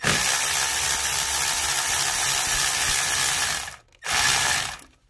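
A ratchet loosens a tight camshaft position sensor bolt on a 4.6L V8 Ford Explorer, making a loud, close, continuous fast clicking that breaks off once briefly near the end, with no talk.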